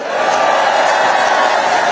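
A dense, loud crowd roar of cheering and applause at an outdoor political rally ahead of early voting, sustained and unbroken with no gaps.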